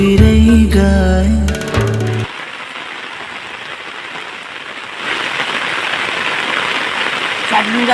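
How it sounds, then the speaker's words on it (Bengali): Rain falling in a Bengal village, a steady hiss of drops that swells louder after a few seconds, preceded by a brief burst of music at the start. "সকাল থেকে বৃষ্টি হচ্ছে।"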